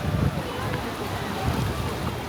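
Sea waves wash continuously at the point where the Indian Ocean meets the Bay of Bengal near Dhanushkodi, a steady roaring surf mixed with gusting wind noise against the microphone.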